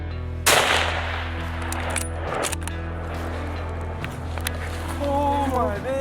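A single loud rifle shot cracks out near the start during a bear hunt, followed by a steady outdoor hum and rustling, with a faint voice rising toward the end.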